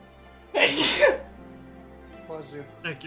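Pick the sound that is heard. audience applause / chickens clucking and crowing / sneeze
sneeze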